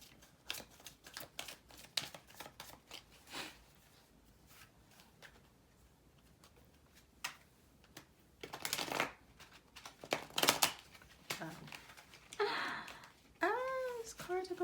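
Tarot cards are shuffled and scattered in a card reading, a run of papery riffles and soft slaps that grows louder toward the end, with speech in between.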